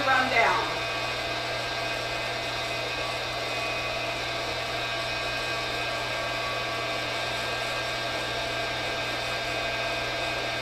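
A coffee roasting machine runs its cooling cycle with a steady mechanical hum and fan whir, constant and even after a brief louder clatter at the start.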